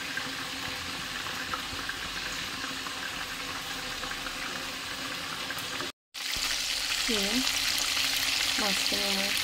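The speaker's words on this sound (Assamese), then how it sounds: "মাছখিনি মই তেলত দি দিলোঁ" Fish sizzles and crackles steadily in hot oil in a home kitchen, with a loud, continuous frying hiss, a brief cut partway through, and faint chirping sounds near the end.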